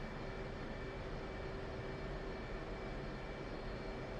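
Jet aircraft taxiing in the DCS flight simulator game, a constant engine whine and broadband roar with steady tonal hum, faint and unchanging throughout, with no talking.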